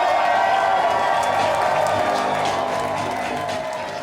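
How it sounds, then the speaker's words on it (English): A crowd at a mayoral election-night watch party in Nashville cheers and applauds loudly as Metro Council member John Cooper walks in, a dense, steady roar of clapping and shouts that eases slightly toward the end. "Metro Council member John Cooper walked into the room to cheers from the crowd this evening."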